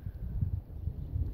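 Wind blowing outdoors on a bright day, a steady low rumbling buffet with gusty swells against the microphone, fairly faint and continuous with no voices.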